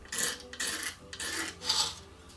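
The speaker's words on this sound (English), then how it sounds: "Now it's just a matter of scraping away all of the glue and what's left of the mylar around," Scraper rasping old glue and mylar residue off a plastic electrostatic speaker panel, four rhythmic scraping strokes, close and moderately quiet.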